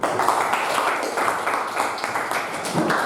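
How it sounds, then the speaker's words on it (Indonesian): Applause in a classroom at the end of an arts lesson, a steady, dense wash of many hands clapping together for about three seconds with no pause. "Aplaus untuk kita semua"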